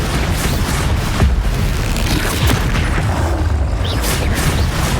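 Bombarda explosion spells cast in the Hogwarts Legacy video game, a dense loud rumbling boom with crackling debris and blasts layered throughout, steady and close.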